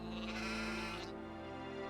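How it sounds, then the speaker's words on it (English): Sheep bleat in the fantasy role-playing game Gothic 2, a steady, sustained bleat that shifts pitch midway, heard close and alone with no talk. "I guard the sheep, and I've been doing that for as long as I can remember"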